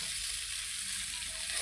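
Fish, caught in a lake, frying in oil on a smoky wood-fired stove, giving a loud, steady, close sizzle with a continuous hiss and no talking.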